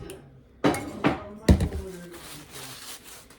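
A utensil stirs mashed bananas in a bowl for banana bread, with three sharp clinks against the bowl followed by softer scraping and rattling, close by.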